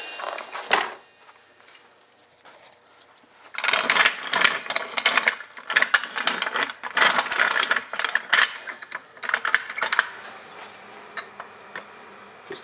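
A small jack is worked in short ratcheting strokes to compress the suspension spring on a BMW E36 while a camber bolt is removed. A brief click comes first, then a dense run of close mechanical clicks and creaks continues for several seconds.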